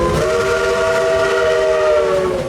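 A steam train at Silver Dollar City sounds a loud, sustained multi-tone steam whistle close by over the rumble of the running train.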